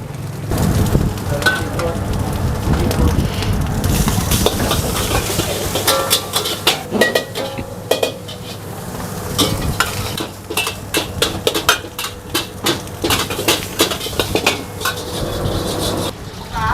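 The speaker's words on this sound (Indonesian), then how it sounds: "Lanjut, gua bikin nasi goreng seafood" Seafood fried rice is stir-fried in a wok at a busy food stall on a Saturday night, with a loud continuous sizzle, rapid scraping and clanking of a metal spatula against the pan, and rhythmic tossing throughout.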